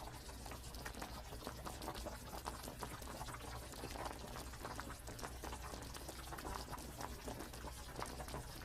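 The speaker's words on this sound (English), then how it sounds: "The base broth is slow-simmered bone broth, low heat for that intense, non-fishy umami" Slow-simmering bone broth on low heat, a steady soft bubbling and faint liquid crackle that continues evenly throughout, close and quiet, with no voices.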